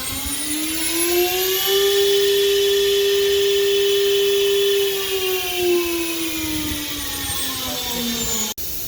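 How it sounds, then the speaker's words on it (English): The spindle of an oscillating knife cutting machine with a CCD camera runs with a loud, steady motor whine that holds its pitch, sagging slightly near the end, nearby and without talk. "For example, I press it. You will see the spindle is running."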